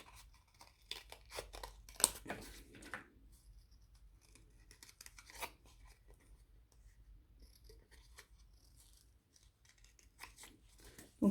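Scissors snip and crunch through a cardboard egg carton in a quiet room, with a cluster of crisp cuts early on followed by sparser, softer snips and rustles.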